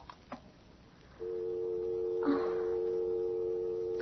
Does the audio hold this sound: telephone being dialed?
yes